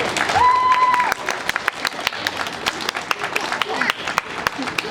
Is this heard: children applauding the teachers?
yes